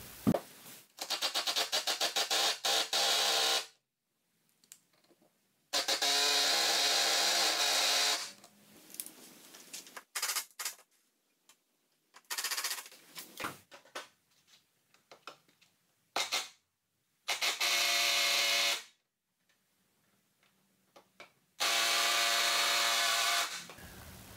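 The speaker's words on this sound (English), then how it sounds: "I'm going to use this impact here, try and hold it as tight as I can." Impact driver working on Torx 40 bolts of a 2003 Jeep TJ door, several loud bursts of whirring and hammering a few seconds each, separated by quiet pauses, close up.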